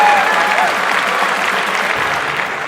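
A crowd at the Carfest horseboarding arena applauds in a dense, sustained wash of clapping that stays strong throughout and fades slightly toward the end.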